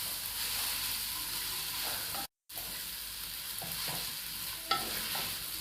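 Cooked noodles with chicken and vegetables being stirred in a pan, a steady soft sizzle with scraping stir strokes, one brief gap and a small clink near the end, no voices.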